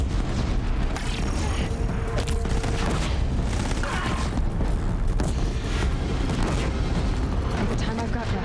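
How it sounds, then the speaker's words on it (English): A barrage of bombs exploding during a fight in the action game Horizon Zero Dawn, a relentless, loud roar of booming blasts and rumbling debris that barely lets up from start to finish. "now we switch to the best weapon in the game. That's right. Bombs. Lots and lots of bombs."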